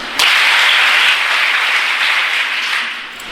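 Schoolchildren clap in unison on a hand signal, a sudden loud burst of many hands that holds dense and even, then thins and fades out as the signal drops.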